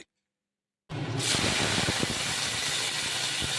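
Onion stalks drop into a hot kadai with an abrupt loud sizzle after a second of silence, settling into a steady, close crackling hiss with small pops.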